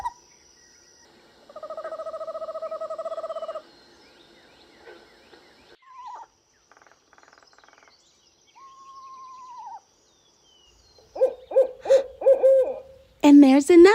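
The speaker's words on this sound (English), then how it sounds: "Eastern screech owl. Yes, an eastern screech owl." An eastern screech owl gives trilling, whinnying calls at a moderate distance. They come in short phrases separated by gaps, with some other faint bird sounds mixed in.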